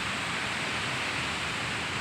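River water rushing in a broad, steady wash of noise, loud and close, with no distinct splashes and no voices for two seconds.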